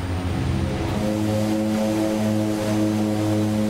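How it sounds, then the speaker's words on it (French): The second engine of a Twin Otter starts up in Microsoft Flight Simulator 2020, a loud, continuous low turbine drone with rising harmonic tones that settle into a steady hum, heard without talk. "on va relancer le deuxième moteur"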